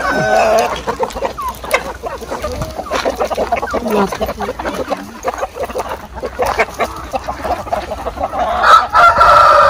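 Hundreds of chickens on a free-range farm with coops in Bukidnon clucking and crowing together in a dense, continuous flock chorus, close and loud, with rooster crows rising above the steady clucking.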